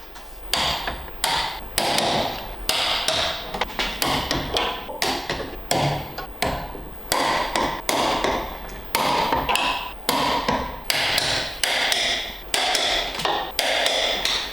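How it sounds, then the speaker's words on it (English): A torque wrench tightens the rear coilover suspension bolts on a Nissan Skyline, producing a steady run of close, sharp clicking ratchet strokes about once a second, each followed by a short fading tail. "Gonna take our torque wrench."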